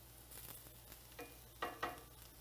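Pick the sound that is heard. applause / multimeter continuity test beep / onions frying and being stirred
onions frying and being stirred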